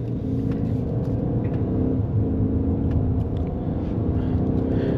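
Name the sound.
2024 Ford Maverick XLT Hybrid truck accelerating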